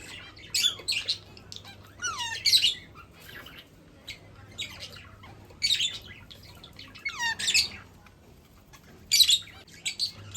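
Pet birds in a home with Shih Tzu dogs chirp and squawk in repeated bursts of high tweets and squeaky calls, close by, with a low steady hum beneath and quiet gaps between.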